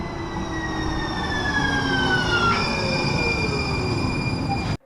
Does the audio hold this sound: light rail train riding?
yes